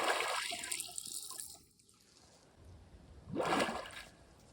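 Splashing into a cold Finnish lake during a freediving outing, a burst of watery rush at the start, a quieter muffled gap, then a second loud splash and bubbling swell near the end.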